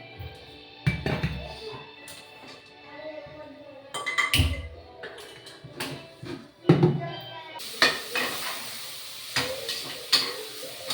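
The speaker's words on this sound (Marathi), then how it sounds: "इथं दिली आता भाताला फोडणी दिली" Tempering for masala rice crackles in a pan, sharp clattering stirs and knocks over a steady sizzle that turns loud and bright partway through, with a television murmuring in the background.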